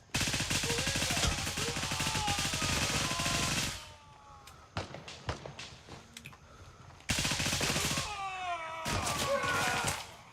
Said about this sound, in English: Shooting up 2 floors there. Grenading all the way up.